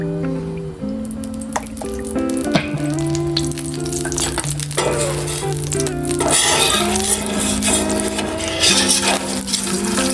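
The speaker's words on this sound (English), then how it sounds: "We'll go ahead and put our oil down and get it started." Oil sizzling and crackling on a hot flat-top griddle as cooking for a western omelette begins, a steady close frying hiss with scattered pops and faint background clatter.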